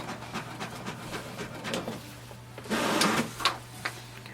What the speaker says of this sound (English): wait for the print to come out